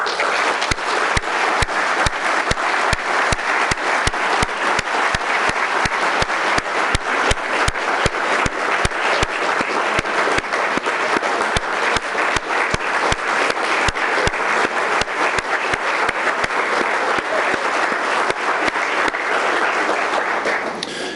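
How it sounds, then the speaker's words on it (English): Sustained, dense applause from an audience at a city's 2015 State of the City address, honoring city employees and the council, steady and loud for about twenty seconds without letting up. "Can we give your team a big round of applause?"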